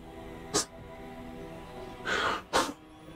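Three sharp sneezes burst out over quiet background game music, two close together near the end, fairly near and brief.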